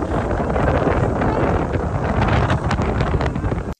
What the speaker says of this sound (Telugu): ఇంకా గాలి అయితే విపరీతంగా వస్తా ఉందన్నమాట అక్కడ